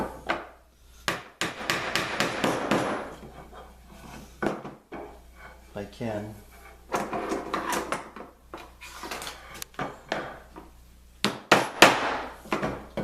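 A wooden pub-table stool joint is knocked apart with a series of sharp, irregular wooden knocks and taps, some in quick bursts, while a voice briefly speaks.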